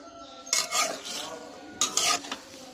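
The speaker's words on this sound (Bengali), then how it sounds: "এবার সবজিগুলো সুন্দর মতো কষাই নিতে হবে।" Chopped vegetables are stir-fried in hot spice paste, with two bursts of scraping and sizzling as the spatula moves them around the pan, close and faint, with no talk.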